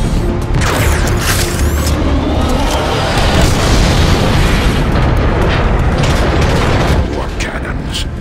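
Loud, dense booms of cannon fire in the video game Transformers: Fall of Cybertron roll on continuously, layered with heavy rumbling and crackling effects, with a voice briefly heard.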